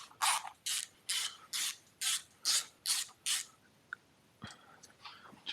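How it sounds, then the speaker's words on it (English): Compressed air and brake cleaner are sprayed in a series of about eight short, evenly spaced hissing bursts to clean out a Solex 1400 triple port racing cylinder, followed by a few faint clicks and rustles. "I'm going to clean everything out just a final time with some compressed air and some brake cleaner"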